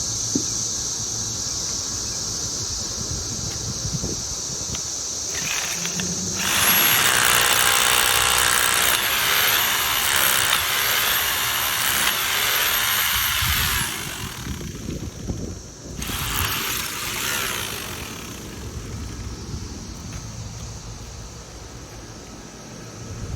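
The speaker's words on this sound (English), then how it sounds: "so I can drill the rest of the hole" A power drill whirs loudly for several seconds drilling a hole for a bumper's anchors, stops, then runs again in a shorter burst, over a steady background hum.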